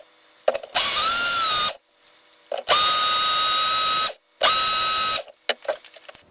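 A blender whirs through pizza sauce with garlic cloves in three loud, steady bursts of about a second each, separated by short pauses and faint handling clicks.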